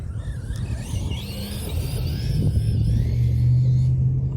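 A car's drivetrain rumbles and groans under load on new wheels, straining the differentials, with a low droning whine building and a rough, uneven stutter close by.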